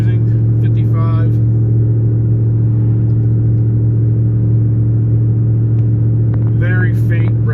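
Steady low in-cab drone from a 2008 Toyota Tundra with a Gibson cat-back exhaust cruising at 55, a constant faint resonant hum under short bursts of talking.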